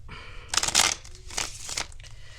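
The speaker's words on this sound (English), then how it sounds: "One more shuffle." Brisk papery riffling and flapping of tarot cards being shuffled, in a few quick bursts, close by with no talking.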